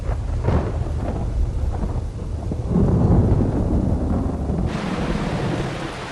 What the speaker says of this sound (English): And showers pour down onto the parched plains.